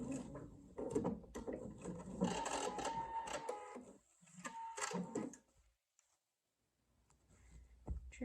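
Quiet, close rattling and clicking comes from a sewing machine stitching through fabric layers for a small craft jar lid opener, in uneven bursts for about five seconds, then a pause of near silence before faint stitching resumes.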